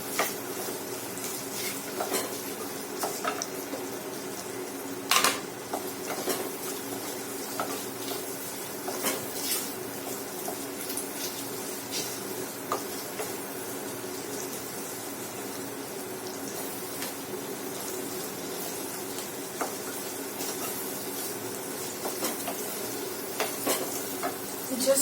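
Onions frying in a pan for Kerala prawn curry, stirred over a high flame: a low, continuous sizzle with scattered clinks and scrapes of a utensil against the pan, fairly quiet and without talk.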